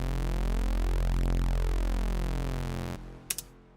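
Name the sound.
phased EQ'd synth wobble wave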